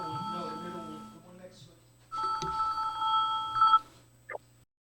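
A telephone rings with an incoming call on a talk show, a trilling electronic ring repeating steadily after a voice speaks, close and clear.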